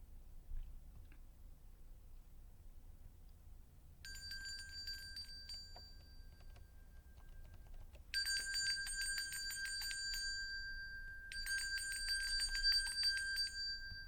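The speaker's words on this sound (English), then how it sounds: "Let's ring that bell" A bell rings in sustained bursts after a quiet start, struck twice more in later bursts, its bright tone ringing out over a low background hum.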